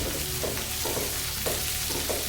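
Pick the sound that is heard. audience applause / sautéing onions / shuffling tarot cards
sautéing onions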